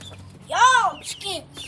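Chickens clucking up close indoors, with a loud, bright warbling call followed by a shorter second one, heard mixed in with faint voices.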